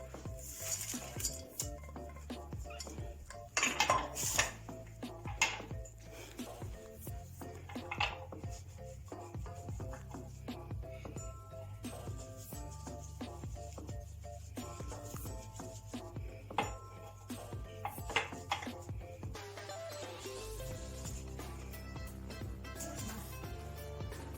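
Dishes, pots and cutlery being washed in a home kitchen sink, with scattered clinks, knocks and scraping over steady running water, close by and continuous, with people talking faintly at times.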